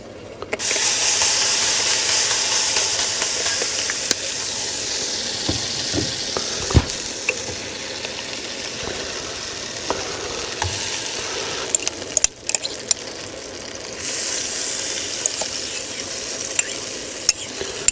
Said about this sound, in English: what I was hoping to do was fry the stuffing off as well